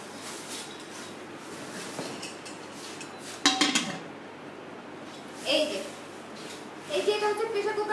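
A Kiam Classic aluminium pressure cooker and its lid being handled, giving a few sharp metallic clinks and clatters amid soft background noise, with a voice faintly present.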